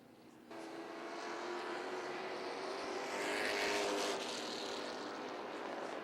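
A pack of limited stock cars races around a short track, engines forming a loud steady roar that swells as cars sweep nearby, with no talk.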